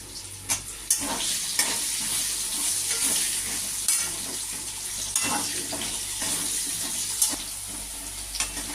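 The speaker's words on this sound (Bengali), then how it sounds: "এই আলু দিলাম আলুটা একটু হালকা ভাজা হলে" Potatoes fry lightly in a pan for a hilsa fish head vegetable curry, giving a soft continuous sizzle broken by several sharp scrapes and knocks of a utensil, fairly quiet and with no talking.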